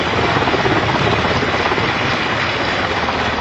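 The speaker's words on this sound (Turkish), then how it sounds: "Helikopterlerle yaptıkları bayraklı selamlama ise büyük alkış aldı." Loud, steady rotor thump and engine roar of helicopters passing close overhead during a flag-flying salute at a police special operations graduation ceremony, continuous throughout with no voices.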